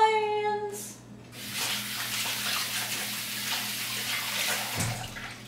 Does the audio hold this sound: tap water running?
yes